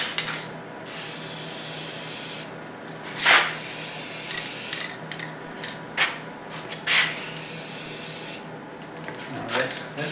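Aerosol finish sprayed as a light tack coat onto a wooden dinosaur bowl from about 8 to 10 inches away, several short hissing bursts over a steady background hum.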